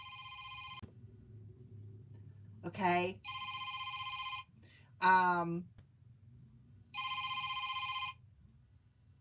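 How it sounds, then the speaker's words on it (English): A telephone rings with three bursts of bright electronic ringing, fairly loud, while a person speaks briefly between the rings. "my phone is ringing."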